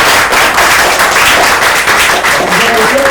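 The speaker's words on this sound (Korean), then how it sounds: "이문환 저자님께 감사의 박수를 다시 한번 드립니다." Sustained applause from a seated audience at an author talk, loud and steady clapping filling the whole stretch with no pauses.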